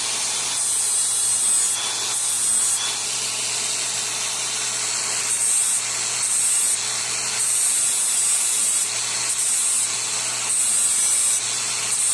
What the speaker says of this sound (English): I'm just going to give it a bit of a sharpen, just to get a little bit of an edge back.